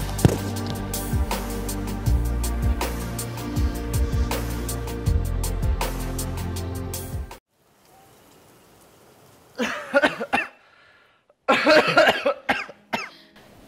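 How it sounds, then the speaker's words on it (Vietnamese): A man coughs heavily in harsh, wet bursts, two clusters near the end after a loud stretch of steady background sound and a brief silence. "Vẫn muốn ho đến nổ phổi thế này."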